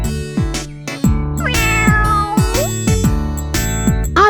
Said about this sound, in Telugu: అక్కడ బిడియంగా కనిపిస్తున్న ఒక పిల్లి పిల్లని చూసింది